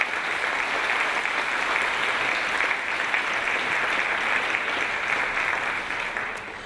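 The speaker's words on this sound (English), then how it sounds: "Let's give them all a big round of applause." Applause for the designers and mentors at a green fashion show, a steady roar of clapping from a sizable audience that stays even throughout and fades slightly at the end.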